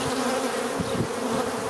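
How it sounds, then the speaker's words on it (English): Large honeybee drones buzz around a beehive entrance, a dense, close, continuous droning hum from many bees at once, with no talk. "down here there are just a bunch of big bees going in"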